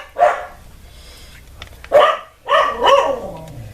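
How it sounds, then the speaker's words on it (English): Pet dogs indoors bark as someone arrives home: four loud, close barks in irregular bursts, the last drawn out into a whiny, yelping tone, with quiet gaps between. "the dogs are obviously like barking because of that"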